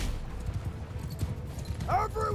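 Horse hooves clip-clop in a rapid rhythm as horses gallop in Mount & Blade II: Bannerlord, steady and moderately loud, with a voice speaking briefly near the end.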